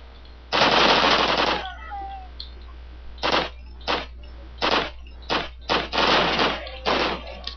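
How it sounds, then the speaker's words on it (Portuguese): In Call of Duty, in a Stalingrad counterattack mission, a machine gun fires a long opening burst followed by a series of short, sharp bursts spaced irregularly, loud and close. "Se a metralhadora começar a atirar em vocês"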